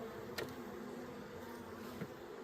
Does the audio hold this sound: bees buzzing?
yes